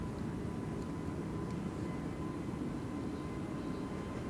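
An easyJet Airbus A320neo takes off from Amsterdam Schiphol's Polderbaan runway 36L toward London Luton, heard as a faint, steady, distant engine rumble with a thin constant hum.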